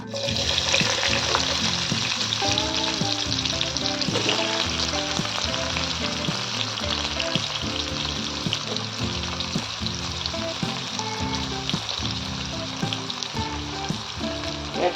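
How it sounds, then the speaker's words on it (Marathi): Chopped onion dropped into hot oil in a pan for mustard greens saag, a loud, dense continuous sizzle and crackle up close throughout, with music playing underneath and no speech. "थोडं तेल गरम होऊ देऊया यात टाकूया आपण gira टाकूया आपण चिरलेला कांदा"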